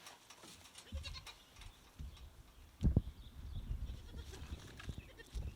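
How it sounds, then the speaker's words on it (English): A goat stuck under a hay feeder makes a short, faint bleat, with scuffling, bumping and shuffling noises around it at close range. "my goat right here is stuck underneath the hay feeder"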